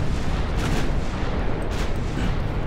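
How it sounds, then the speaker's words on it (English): A battleship explodes in the naval strategy game Ultimate Admiral Dreadnoughts, a loud, continuous rumbling blast with rolling booms that roars on for a few seconds without any talking. "Not quite the explosion I wanted, but in all honesty, this will cripple this battleship."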